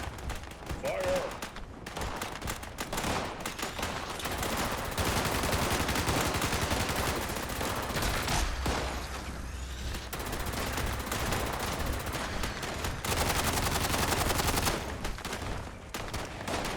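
Sustained video game gunfire during a squad firefight, with dense bursts of automatic and single shots rattling almost continuously, and voices calling out in places.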